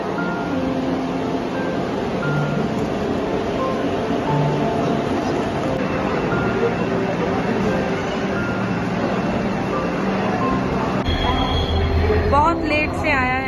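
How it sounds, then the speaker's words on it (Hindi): Vande Bharat Express train pulling into a station, running an hour late: a steady, loud rumble of rolling stock with a brief squeal of wheels near the end, mixed with faint station chatter. "5:45 का ट्रेन था जो कि आ रहा है 6:45 में"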